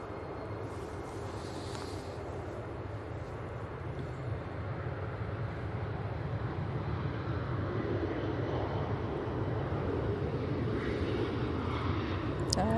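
KLM airliner taking off from Manchester Airport bound for Amsterdam on an intersection departure, a steady low engine roar that slowly builds in loudness, heard from a distance, with faint voices in the background.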